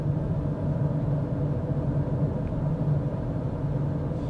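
Inside a second-generation Mazda CX-5 cruising at 60 km/h in fifth gear at 1500 rpm, a steady, low road and engine drone hums continuously without any talking.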